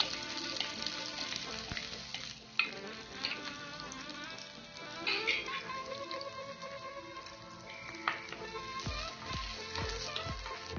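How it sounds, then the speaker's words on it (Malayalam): Chopped onions frying in hot coconut oil in a pan, a continuous crackling sizzle with scattered pops and clinks, fairly quiet and steady throughout. "ഓയിൽ നന്നായിട്ട് ചൂടായി നമുക്ക് ഈ കട്ട് ചെയ്ത് വെച്ചിരിക്കുന്ന ഓനിയൻ ഇട്ട് കൊടുക്കാം"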